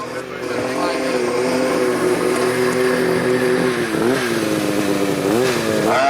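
PowerModz snowmobile engines rev loudly and continuously at a race start on a hill, high whining tones climbing and dipping as throttles rise and fall, with several sleds overlapping close by.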